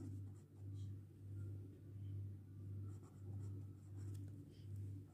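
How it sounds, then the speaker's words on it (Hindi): Marker or pen writing numbers on a board during a fourth-grade math lesson, a steady rhythmic series of strokes repeating about every second over a low hum, with no talking. "चले अब इसको लिखते हैं"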